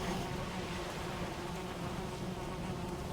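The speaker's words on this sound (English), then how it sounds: "Oh, I hear bees. There are bees in this building." Bees buzz inside a building in Valheim, a dense, continuous droning hum that stays loud and steady throughout with no talking.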